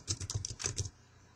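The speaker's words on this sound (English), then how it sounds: "Now type Ron Smith" Typing on a computer keyboard, a quick run of about a dozen soft, close keystrokes lasting under a second, then quiet.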